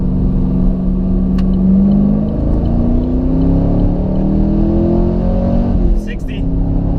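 A 2014 Chevy Camaro SS V8 pulls hard in second gear from about 30 mph, a loud steady engine roar with pitch climbing under acceleration from inside the cabin, while someone talks over it.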